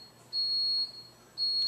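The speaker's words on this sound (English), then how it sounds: "That's my refrigerator alarm." A household refrigerator alarm gives two high, steady electronic beeps, the first about half a second long and the second starting just before the end, clear against a quiet room with no talking.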